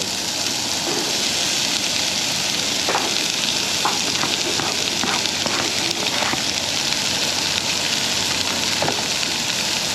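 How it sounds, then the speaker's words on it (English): Onions and peppers sautéing for a hot sausage chili con carne, with a steady close sizzle and scattered stirring clicks, no one speaking. "I'm just going to give these a slight saute"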